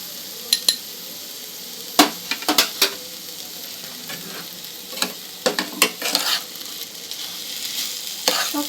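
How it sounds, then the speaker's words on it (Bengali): Chana dal with ginger paste and salt fries in a pan under a steady soft sizzle, with a spoon scraping and clanking against the metal in irregular bursts, close by and with no speech. "সব কিছু মিক্স করে 2-1 মিনিট একটু ভালো করে ভেজে নেব।"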